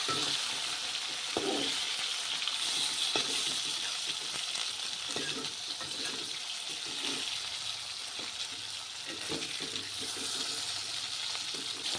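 Fish sizzling in a frying pan in a home kitchen, a continuous bright hiss of hot oil with occasional stirring and scraping clatter, steady and fairly faint throughout with no talking.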